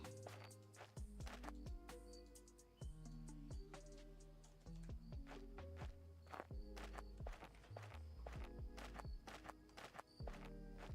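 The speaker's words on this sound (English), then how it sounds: "I need to make it so when you sprint, you hear the footsteps more often." Steady character footsteps in a base-building video game on a walking mountain, evenly paced over looping game music and ambient tones, with no talking.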